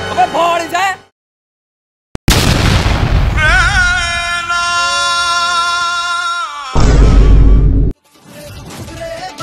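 Diwali firecrackers set off in a playful comedy sketch: one sharp bang after a silent gap, then a loud sustained burst with a rising whistling tone and a final heavy blast, with voices talking before and after.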